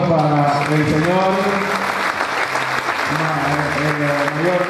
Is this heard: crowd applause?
yes